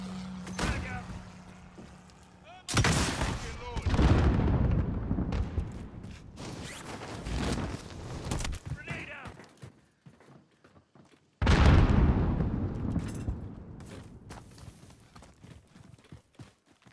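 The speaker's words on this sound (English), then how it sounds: "Allied precision airstrike incoming." Airstrike explosions in a first-person shooter video game: two heavy, booming blasts land seconds apart, each followed by rumbling debris and scattered crackle, with game voices talking in between.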